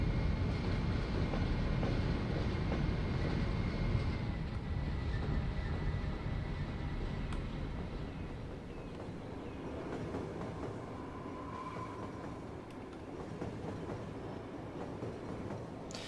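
Trains running on a mining rail line in the city-building game Cities Skylines, a steady rumbling rail drone with a faint tone near the end, continuous and fairly loud throughout.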